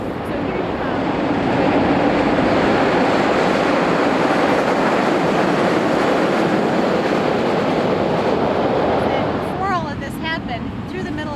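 A loud, continuous train rumble roars past close by through a campus for about ten seconds, then fades as a voice begins speaking.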